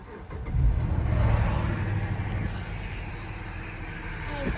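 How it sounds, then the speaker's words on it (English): A Chrysler 300 Limited, under diagnosis for a battery light and suspected alternator fault, starts up: a brief cranking surge, then the engine settles into a steady close idle drone. "Now let's start this vehicle up."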